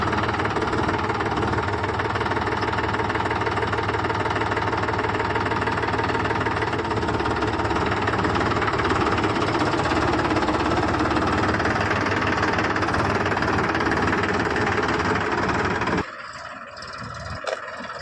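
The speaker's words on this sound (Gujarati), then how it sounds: "ચાલુ કરું ટ્રેક્ટર" Diesel tractor engine running at idle: a loud, steady knocking rumble holds close for about sixteen seconds, then cuts off near the end.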